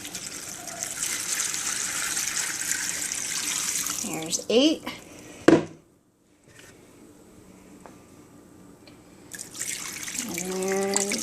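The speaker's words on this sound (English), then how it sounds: "I cover them with 12 cups of water" Running water pours steadily from a tap into a pan of vegetable scraps, broken by a short pause and some clatter, with a brief spoken remark in the middle.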